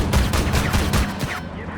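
Tank guns fire in Armored Warfare, a rapid cluster of loud, booming shots in quick succession that ends abruptly after about a second and a half.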